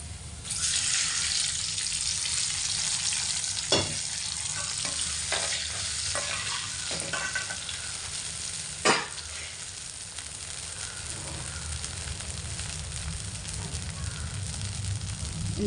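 Garlic sizzles and fries steadily in a pan after tamarind water is added, a loud, continuous crackling hiss broken by a few sharp clinks and stirring knocks, with no voices.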